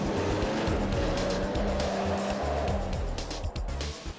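A 2011 Porsche Boxster Spyder sports car drives along canyon roads north of Malibu, its engine note steady and prominent, with revs shifting and a few brief tire or road noises toward the end.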